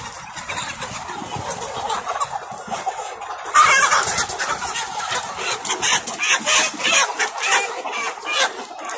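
Many chickens cluck and squawk continuously in a household poultry operation of about 3000 birds, a dense, busy flock chorus that grows louder and more agitated partway through.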